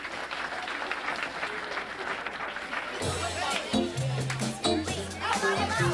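Guests at a family party clap along, with a broad crowd clapping and chatter at first, then louder music and voices join in over the clapping in the second half.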